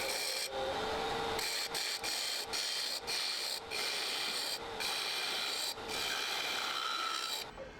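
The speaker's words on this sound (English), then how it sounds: "There's sort of an exciting whir in the air when you get something with 4 corners moving at high speed" Steady whir of a square wooden blank spun at high speed on a lathe, its corners giving a fast pulsing rasp, with brief cuts in the sound through the run.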